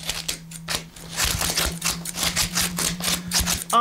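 Rapid metallic snipping and clacking as scissors cut through membership cards in quick bursts, fairly close, with a steady low hum underneath and no talking.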